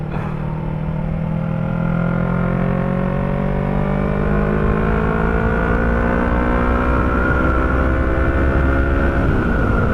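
A 2018 Yamaha R3 motorcycle with a loud aftermarket exhaust runs continuously, its engine note slowly rising and falling in long sweeps, close and loud throughout.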